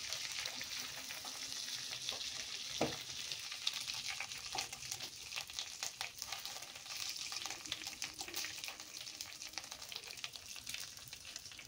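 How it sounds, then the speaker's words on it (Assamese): Chicken pieces deep-frying in hot oil, a steady crackling sizzle with occasional stirring clatter, close and fairly quiet, with no talk. "এতিয়া মই বাকী থকা চিকেনখিনি আকৌ আগৰ দৰে ডিপ ফ্ৰাই কৰি ল'ম।"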